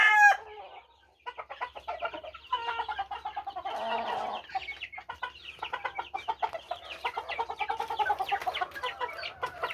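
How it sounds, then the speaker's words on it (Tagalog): Chickens on a small poultry farm cluck steadily and busily while a rooster crows near the start, the flock close and lively. "Pinanglilipat niya na yung kanyang mga manok."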